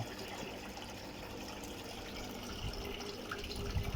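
Water from a Sonic 3500 pump rushes into the filter tank of a 48-inch goldfish aquarium, a continuous close gushing flow that stays even throughout with no voices.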